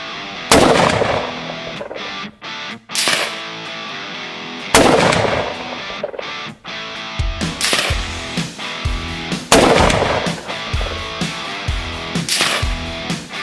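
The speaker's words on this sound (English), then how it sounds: "let's drop the mag, let it go, and then just fire" A Wedgetail MPR Mini pump-action rifle in .223 Remington fires outdoors at a range, with several sharp, loud shots spaced a few seconds apart, each followed by a decaying report and the clack of the pump action cycling between shots.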